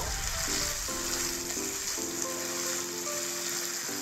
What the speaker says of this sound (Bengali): 2 চামচের মতো দিলাম সয়া সস। এবার খুব ভালো করে নাড়িয়ে নেব।